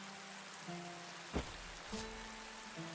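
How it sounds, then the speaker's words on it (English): Rain falls in the video game Dead in Vinland as a faint, steady hiss and patter. Soft sustained musical tones play underneath, with a couple of gentle thumps. "I'm not going to put stuff out while it's raining."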